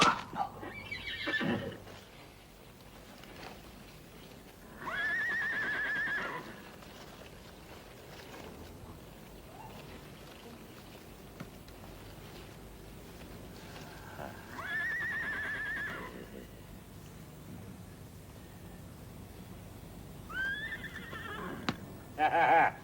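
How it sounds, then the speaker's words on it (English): Horse whinnying in an old Sherlock Holmes film set in Boscombe Valley, three shrill neighs spaced several seconds apart over a quiet, low background with occasional hoof clatter. "Well, I don't want that damned horse anyhow."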